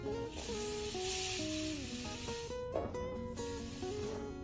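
Air hissing out of a 5-inch latex balloon as it is squeezed by hand to shrink it for a mini balloon garland, a close, steady spray-like hiss with squeaky rubbery tones, pausing briefly near the middle.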